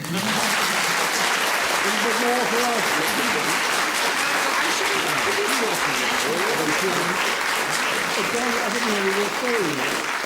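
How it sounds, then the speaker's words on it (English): A studio audience on a 1970s TV panel game show applauds steadily and loudly throughout. Voices and cheers are woven into the dense, continuous clapping. "You must clap them both."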